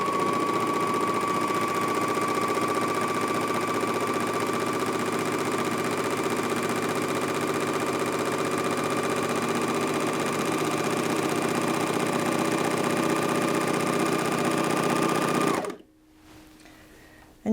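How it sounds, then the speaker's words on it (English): Janome MyLock 454D overlocker sewing a rolled hem on cotton fabric, a fast, steady mechanical whirr with a rapid stitching rattle running close and loud for about sixteen seconds, then stopping abruptly. "I've got some cotton fabric here and I'm just going to go ahead and sew that."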